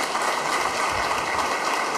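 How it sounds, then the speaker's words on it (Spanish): Dense, steady applause from an audience at a public event in Formosa, honoring the Paipa program's 25th anniversary, heard alone and fairly close, without breaks. "Un aplauso para el Paipa."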